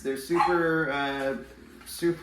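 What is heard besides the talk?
dog barking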